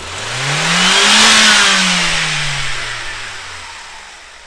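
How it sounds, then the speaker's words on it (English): A single-cylinder engine revved at wide open throttle during a compression test, a loud close roar that climbs in pitch and then falls back as the throttle eases, with no talking. "we're going to go wide open throttle"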